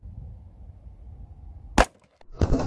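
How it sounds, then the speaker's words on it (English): A single sharp, close pistol shot from Underwood .45 ACP +P hardcast ammunition fired into water jugs backed by a bone barrier, followed after a brief pause by a splashing crash as the jugs burst. "first shot here with the standard bone barrier Jugs test"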